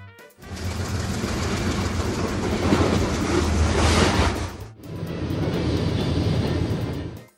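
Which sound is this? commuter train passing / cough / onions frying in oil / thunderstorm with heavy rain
commuter train passing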